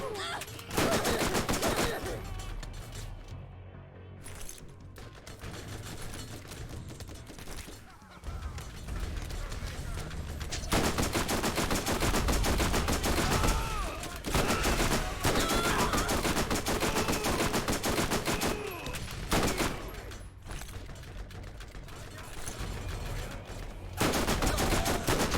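Submachine gun fire from Lilith in Borderlands, long rapid bursts of shots ringing loud and close, broken by short gaps, with a player talking over parts of it.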